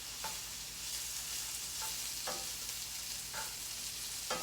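Green onions sizzle softly and steadily as they brown in a pan, with a few brief scraping stirs breaking through the faint, even frying hiss.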